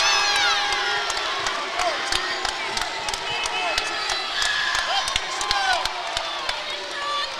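Crowd cheering and shouting at a boys high school basketball game between Sky View and Crimson Cliffs, a loud, sustained roar with whistles and scattered yells, ball bounces and sneaker squeaks throughout.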